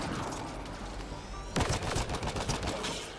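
Gunfire in the Mass Effect: Andromeda shooter: a murmuring battle backdrop, then a sudden burst of rapid sharp shots and impacts in quick succession, close and loud.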